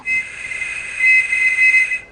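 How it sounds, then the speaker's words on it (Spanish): A handheld whistle blows a 2600 Hz tone that resets a long-distance multifrequency telephone switch: a steady, shrill, piercing note lasting about two seconds, loud and alone. "El tono de 2600 hercios producido por el silbato reajusta el conmutador multifrecuencia de larga distancia"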